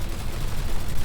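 Dense, continuous assault rifle fire from Cyberpunk 2077 fills a single second, loud and close with no pause between shots.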